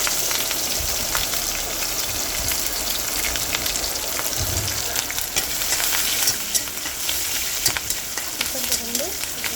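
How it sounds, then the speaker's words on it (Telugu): Loud, dense sizzling and popping of oil in a pan as urad dal, chana dal and mustard seeds are tempered, with sharp spattering crackles throughout and a brief stir near the middle. "ఆయిల్ పెట్టుకుని అందులో మినపప్పు శనగపప్పు ఆవాలు పోపేసుకోవాలండి"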